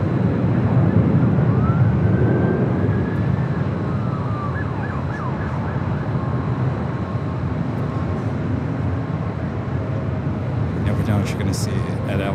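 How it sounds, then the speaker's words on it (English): Police car sirens wail faintly in the distance near LAX airport, a thin rising and falling tone over a steady broadband roar of traffic and aircraft, with a few brief clicks at the end. "We're still hearing police cars, not quite sure where they're coming from."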